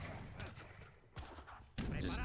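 Musketeer volleys and cannon fire crack and boom in an Age of Empires II battle, a few heavy bursts with a loud sustained blast at the end, mixed with a voice speaking underneath.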